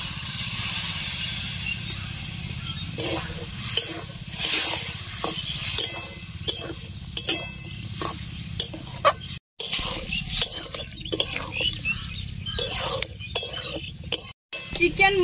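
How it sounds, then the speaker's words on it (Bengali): Chicken, peas and potato for ghugni are stirred in a kadai with a splash of water. A spatula scrapes and clinks against the pan in repeated strokes over a soft background hiss, with two brief dropouts. "হালকা একটু জল দিয়ে ভালো করে কষিয়ে দিব"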